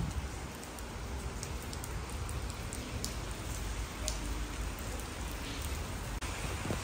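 Heavy rain pours down steadily in a dense, hissing wash, with scattered sharper drops striking nearby surfaces and no voices.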